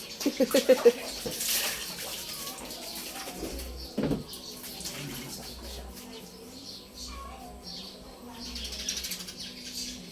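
Water splashing and pouring as someone bathes at home, a few sharp splashes at the start and one around four seconds, then a steady low wash of water with faint voices talking in the background.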